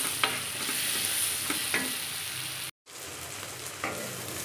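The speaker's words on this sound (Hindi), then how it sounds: "हम जीरा और हल्दी से हल्दी में डाल के इस प्याज को ब्राउन होने तक भूनेंगे।" Onions sizzle steadily in a pan with cumin and turmeric, a broadband frying hiss with a few stirring scrapes, a brief cut of silence midway, no talk.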